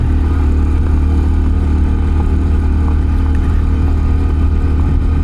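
A Honda CT125 trail motorcycle rides along white gravel into woods, its small engine droning loud and steady with constant road and wind roar throughout, close to the rider.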